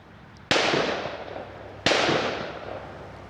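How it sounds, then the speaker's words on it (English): Two sharp, distant gunshots ring out over a river as heard from a kayak, each a sudden bang whose echo rolls away for over a second, with quiet outdoor background between. "someone's shooting a gun where there shouldn't be shooting"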